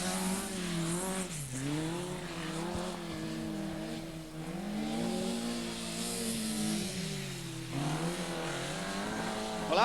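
Rallycross cars with Ford cross-flow engines race on an indoor short-circuit track, their engines rising and falling in pitch as they rev and lift through the corners, loud and continuous at moderate distance.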